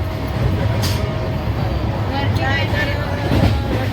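Steady rumble of a passenger train rolling along the rails in Konkan, with rattling and a few brief clacks, as a child and an adult speak over it.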